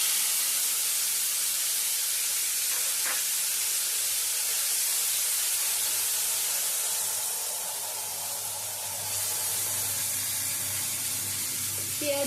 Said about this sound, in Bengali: যে তেলটুকু রয়েছে সেই তেলের মধ্যেই ফোড়ন দিয়ে দিচ্ছি পাঁচ ফোড়ন আর দুটো শুকনো লঙ্কা